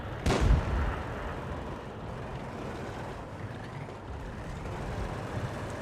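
An artillery gun fires once in the video game World of Tanks, a single heavy, booming blast near the start that fades into a low, rumbling battlefield ambience.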